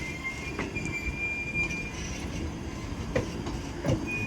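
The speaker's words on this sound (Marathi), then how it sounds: "बघा चालू झाली आहे ट्रेन" A serviced passenger train rolling out of its maintenance shed, steady rumbling and low clatter of wheels with a faint high squeal, heard from a short distance at moderate level.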